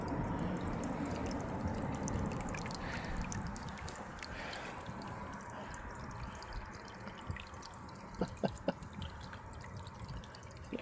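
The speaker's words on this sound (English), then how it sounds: "The water runs back down from the bowl" Water from a birdbath bowl trickling back down into its reservoir, a soft steady dribble with scattered drips and a few brief sharper splashes near the end, quiet and close.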